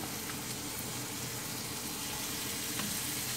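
Burgers sizzle in a skillet with a steady, quiet, even hiss of frying that holds unbroken and alone, with no voices over it.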